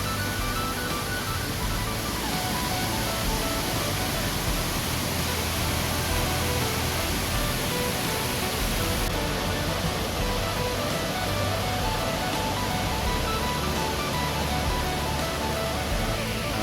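Tad Khu waterfall at Pakxong, Champasak, pours in a steady, dense rush of falling water that fills the air evenly and continuously without a break.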